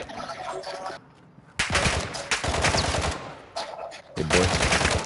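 Rapid automatic gunfire in Call of Duty Warzone DMZ, dense bursts of shots with a brief pause near the one-second mark and another short gap before the firing resumes, loud and close.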